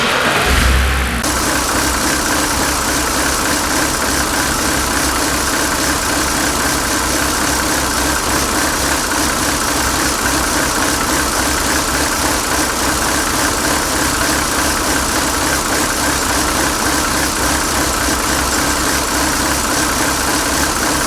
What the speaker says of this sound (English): let's start the engine and find out how it idles